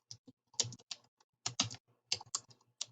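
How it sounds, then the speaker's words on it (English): Typing on a computer keyboard, heard close up in three quick bursts of rapid key clicks separated by short pauses, with no talk. "and I can start typing."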